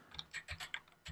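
Fingers tap out a few words on a computer keyboard, a short run of light, quiet clicks spaced irregularly, with no talk over them.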